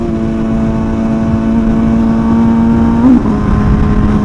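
An MV Agusta motorcycle held at full throttle on a night ride, a loud close engine drone with a steady pitch that climbs briefly and then drops back before holding again.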